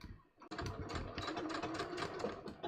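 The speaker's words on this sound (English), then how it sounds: "So I can then also sew this triangle to the pocket bag." A sewing machine sews a fabric triangle onto a welt-pocket bag, starting after a brief pause and then running in a close, continuous stitching rattle.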